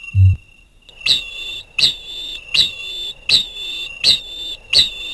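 A low thump, then six clear rising whistle calls repeat at a steady pace about every three-quarters of a second, loud and close.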